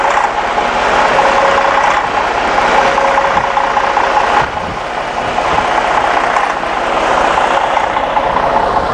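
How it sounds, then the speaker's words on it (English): The Detroit Diesel DD13 engine in a 2012 Setra S407 highway coach runs at a steady idle heard close up at the rear, a loud, continuous mechanical drone with a slight knocking texture and no speech. "we've got that DD13 there humming along"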